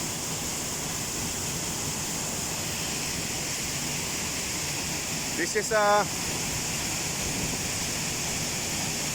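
A waterfall roars from inside the falling water on a sunny August day in the UK. The rush is a steady, loud, unbroken wash, and a voice speaks briefly partway through.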